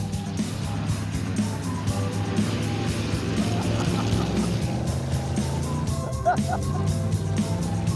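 A car lapping a track, tail hanging out through a turn, gives a steady, loud engine drone with throbbing low harmonics that holds throughout, its pitch wavering slightly as it goes.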